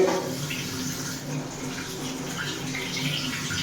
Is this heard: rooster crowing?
no